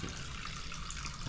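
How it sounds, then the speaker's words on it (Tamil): Abhishekam water pours over a Shiva idol in a temple at Thiruvennainallur, a steady, continuous splashing stream heard close and evenly throughout. "அபிஷேக தண்ணியெல்லாம் வெளியே வர்ற மாதிரி"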